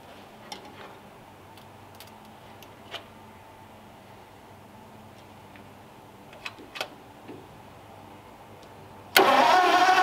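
A 1941 Lincoln V-12 cranks and fires after a quiet stretch of faint ticks and clicks, bursting into a loud, close running roar for the final second.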